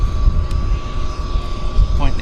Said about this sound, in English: We've got another aircraft on approach.